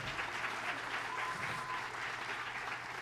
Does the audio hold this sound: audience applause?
yes